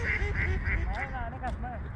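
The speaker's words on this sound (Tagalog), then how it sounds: "Ito mga itik to sila." Domestic ducks quack in a quick series of nasal calls nearby on an afternoon walk, mixed with a few honking geese and a murmuring voice in the background.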